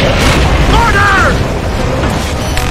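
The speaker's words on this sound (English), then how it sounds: "Mortar!" A mortar round explodes in Gears of War: Judgment, a deep boom rolling out over steady combat noise, with a whistling streak and some voices mixed into the chaotic battlefield.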